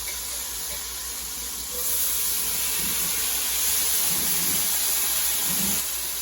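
White onions sizzle in a hot, seasoned skillet, a steady broad hiss that swells louder after the first couple of seconds and holds, with no talking.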